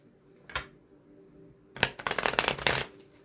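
A deck of tarot or angel cards being shuffled by hand, with one quick riffle followed after a pause by a louder, longer burst of rapid flicking and snapping, close up in a quiet room.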